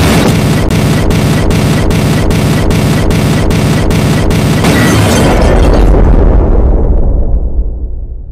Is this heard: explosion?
yes